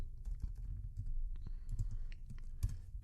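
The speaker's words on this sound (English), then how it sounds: "I'm just going to type out" Quiet typing on a computer keyboard, a close, steady patter of light key clicks with a few slightly louder taps, heard without any talking.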